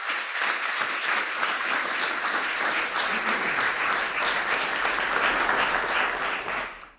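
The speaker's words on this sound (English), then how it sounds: "You better get an applause after that one." Audience at a World AIDS Day commemoration breaks into sustained, dense applause that holds steady and loud for several seconds, then fades out quickly at the end.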